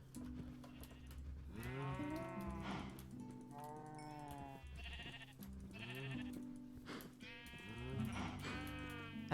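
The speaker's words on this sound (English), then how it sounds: "I don't need the sheep as bad as the cows, obviously, but wool farming is a thing" Sheep bleat repeatedly in the Minecraft video game, wavering cries overlapping with deeper cow moos in an ongoing chorus of farm animals at moderate volume.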